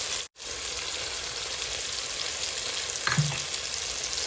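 Yogurt going into sizzling tomato masala as it is sautéed, a steady broadband frying hiss throughout with a brief cutoff near the start and a small splatter late on, no voices.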